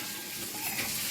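Whole masoor lentil curry simmering and frying in a pan with its masala, a close, continuous bubbling sizzle at an even level with no talk.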